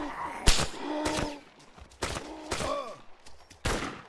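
Gunfire in the video game DayZ: several sharp, loud shots crack in an irregular sequence, each followed by a short echoing decay, with no talking during the bursts.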